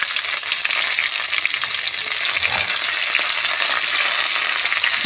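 Beans, carrot and capsicum frying in hot oil with curry leaves and dried chillies, a loud, steady close sizzle with faint stirring and no talk.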